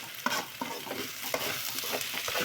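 Curry leaves and coconut sizzle and fry in a pan for beef curry, a steady hiss with repeated stirring scrapes in a regular rhythm, close and fairly loud, with no talking.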